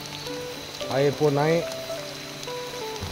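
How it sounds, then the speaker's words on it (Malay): Steady heavy rain patters in the background at a riverside overnight camp while someone speaks briefly over it. "Hujan pun makin kuat"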